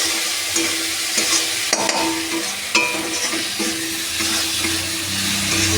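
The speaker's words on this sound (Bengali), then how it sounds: "এটা একটু লাল লাল করে ভেজে নেবো" Food frying in a pan until reddish, giving a loud continuous sizzle close up with occasional stirring scrapes and clicks.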